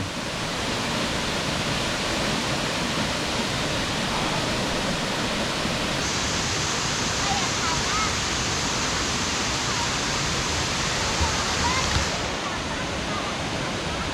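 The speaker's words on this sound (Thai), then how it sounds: "น้ำตกแม่เตี้ยอุทยานแห่งชาติออกหลวงครับ" Mae Tia waterfall in Op Luang National Park, Chiang Mai, gives a constant, dense roar of falling water, steady and enveloping from start to finish with no pauses.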